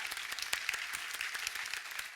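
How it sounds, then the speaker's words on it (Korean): A church congregation at a Friday prayer meeting claps for the children present, a dense, steady applause that fills the room for a couple of seconds with no talking over it. "우리 아이들에게 박수 한번 쳐주십시오"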